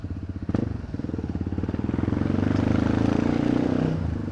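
A motorcycle engine putters close by, its pulsing exhaust growing louder and fuller as the bike arrives, with a sharp knock early on.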